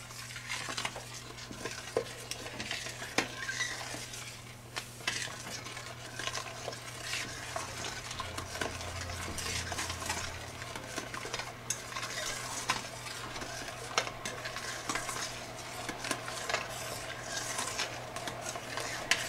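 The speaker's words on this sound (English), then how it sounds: "stir to incorporate with the juice again and bring back to a full rolling boil" A spoon works through grape jelly juice and sugar in a pot, with repeated scraping stirs and light clinks over a constant simmering sizzle, close and steady, no voices.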